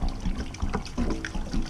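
Water trickles and splashes inside a chicken waterer in short, uneven bursts, close by and fairly soft, with gurgling pulses recurring every few tenths of a second.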